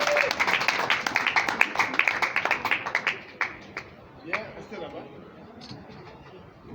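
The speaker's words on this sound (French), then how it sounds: "Applaudissez la signature de Madame Natacha." Wedding guests at a civil marriage ceremony break into dense, close applause that peaks for about three seconds, then thins into scattered claps with murmuring voices underneath.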